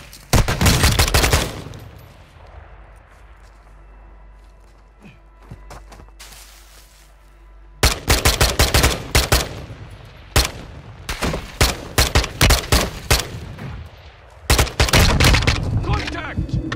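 Bursts of automatic gunfire in a Call of Duty: MW2 Resurgence match, loud and close, come in rapid clusters separated by a quieter stretch, with scattered single shots between the volleys.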